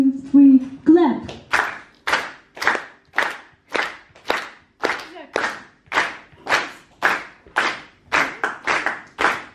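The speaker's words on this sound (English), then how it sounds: "When I say 1, 2, 3, clap, you're starting doing this." A concert audience claps in unison on a count, producing a steady series of sharp, loud, evenly spaced claps after a brief spoken lead-in.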